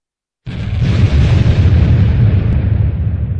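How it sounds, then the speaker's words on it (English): Bombs detonate in an animated show: one loud, sudden blast that rolls straight into a deep, sustained rumbling roar lasting several seconds, with no voices. "He detonated the bombs!"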